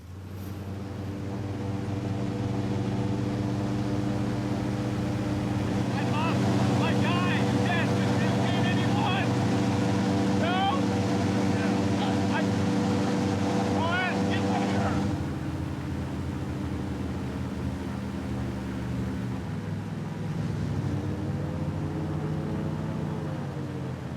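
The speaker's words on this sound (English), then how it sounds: "Airboat ride." Loud, droning engine of an airboat running at steady power across water in Florida, with rushing wind noise; the pitch shifts slightly near the end.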